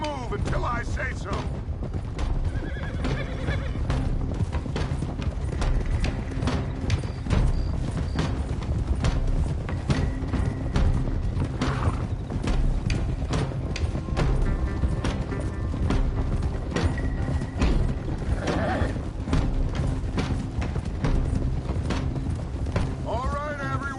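Horses gallop in the video game Red Dead Redemption 2, a dense stream of hoofbeats and creaking tack running steadily throughout, with voices speaking over the riding.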